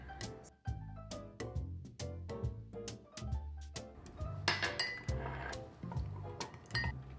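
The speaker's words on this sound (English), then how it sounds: "We are going to add in the Kahlua and the Grand Marnier and then give it a really good stir." A spoon stirs a coffee drink with Kahlua and Grand Marnier in a glass, making quick, bright clinks and taps against the glass in an irregular rhythm, close and alone.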